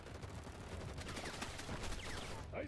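Game-trailer gunfire in a military engagement: a rapid, fairly quiet rattle of shots running through the whole stretch, mixed with battle noise.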